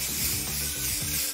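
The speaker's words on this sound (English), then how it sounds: "remember to protect your workplace while coloring with spray paint." Spray paint hisses from a can onto a craft project, a continuous close, airy spray with slight pulsing.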